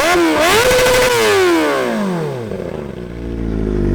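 Kawasaki ZX-4RR with its stock exhaust baffle removed, revving hard to a high pitched scream, holding briefly, then falling away in a long descending wail, very loud and close.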